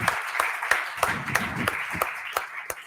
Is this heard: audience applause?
yes